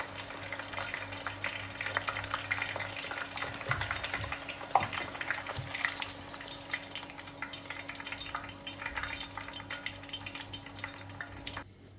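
Sambousek pastries filled with cheese sizzle steadily in hot oil as they turn golden, a continuous close crackling hiss with a brief stir partway through and no talking.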